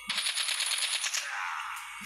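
An AK47 rifle fires a quick automatic burst in Call of Duty Mobile, a loud, rapid rattle of shots lasting about a second before ringing off into a fading tail.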